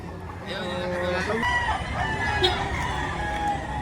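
A rooster crows loudly and close, a long strained call, with other chickens clucking around it.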